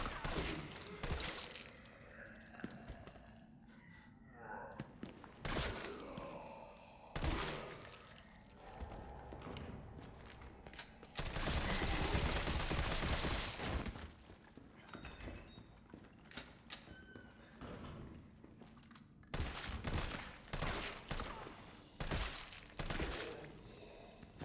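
Gunfire in Resident Evil 3 Remake comes in repeated loud shots and bursts across the scene, with a dense sustained stretch near the middle, over game ambience and effects.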